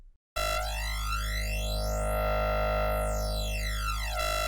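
A sustained buzzy psytrance synth wavetable, resampled through a flanger, with a sweeping, whooshing flanger effect that rises and falls smoothly, played alone without a filter.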